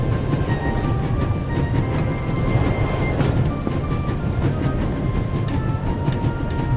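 A train running at full speed in The Raven Remastered, a loud, continuous rumbling roar with wind-like rushing and occasional faint metallic clinks above it.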